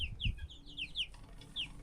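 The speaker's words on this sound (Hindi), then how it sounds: "तो ये देखें जी हमारे मुर्गियाँ।" Village chickens clucking at a distance, several quick, faint clucks and chirps spread through a short moment over quiet background rumble.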